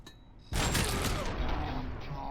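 Sustained gunfire in the video game Robocop: Rogue City bursts in abruptly after a quiet moment, a loud continuous fusillade with booming weapon fire.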